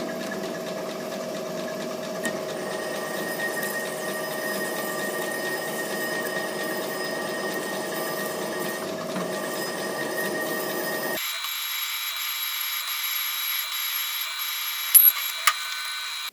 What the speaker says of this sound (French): je vais les percer d'abord avec un forêt de 5